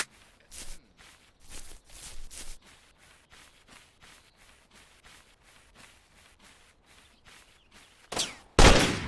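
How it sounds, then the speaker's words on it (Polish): Video game gunfire from Drive 4 Survival as a non-player character shoots into the ground, a string of sharp separate shots repeating steadily over several seconds, with a louder close burst near the end. "Chłop strzela w ziemię."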